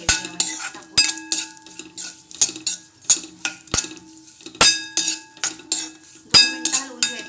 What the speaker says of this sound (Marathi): मनुका थोडं हलवून घ्यायचं यामध्ये टाकून